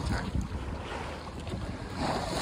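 Sailing yacht MONK pushing through waves in rising wind between Calais and Boulogne-sur-Mer, a loud steady rush of water and wind buffeting the microphone, with no voices.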